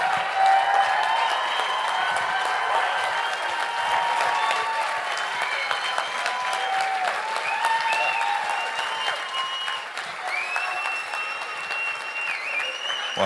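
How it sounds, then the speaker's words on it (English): A large audience in a Scottish venue applauds and cheers warmly as a guest comes on stage, dense sustained clapping with a few whoops throughout, loud and close with no talk over it. "can we give a massive round of applause for the one and only Mel Gibson?"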